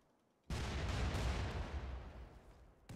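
A loud explosion in the video game RimWorld erupts suddenly as a broad, heavy blast, then rumbles on and slowly fades before a small second burst at the end.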